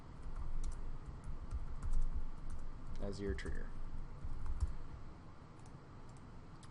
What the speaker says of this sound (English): Typing is horrible while I'm on camera.